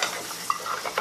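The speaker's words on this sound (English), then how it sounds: "Make sure you hold your cup and mix." A spoon stirs Japanese candy pudding mix in a small cup, with quick, close scraping and light clinking swirls over one second.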